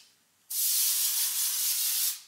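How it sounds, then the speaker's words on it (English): Heat protectant spray misted onto dry hair, heard as one steady aerosol hiss lasting under two seconds that starts abruptly and fades out at the end, close up with no talking. "I like it because you can spray it on dry hair."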